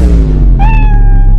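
A cat meows after falling into a gutter: a single drawn-out, plaintive meow rising then holding steady, close by, over a loud constant low hum or rumble.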